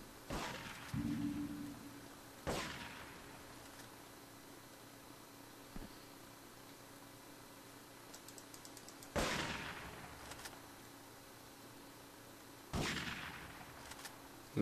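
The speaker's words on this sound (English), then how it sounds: "Oh my god, he's got a shotgun." Shotgun blasts in Grand Theft Auto 3 ring out loud and sharp, four separate booming shots spaced a few seconds apart over a steady background hiss, with no talking.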